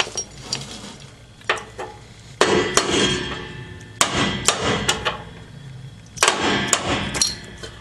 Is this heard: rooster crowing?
no